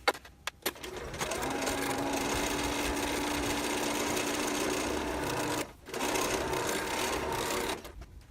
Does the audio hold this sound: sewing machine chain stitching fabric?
yes